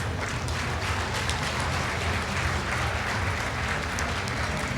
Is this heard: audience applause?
yes